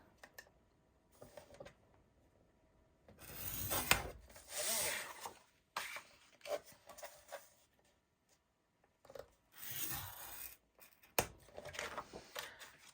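Paper is scored on a scoring board for a handmade mini album page. The clip holds short, quiet scraping and rubbing strokes in separate bursts with pauses between them, close to the microphone, and no one speaks.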